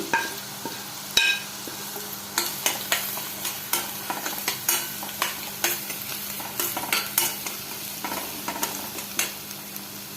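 Softened onions with turmeric and chili powder stirred in a frying pan for paneer butter masala: a soft sizzle under repeated close spatula scrapes and taps in an irregular rhythm, with no one talking.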